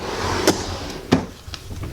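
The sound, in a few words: makeup drawer opening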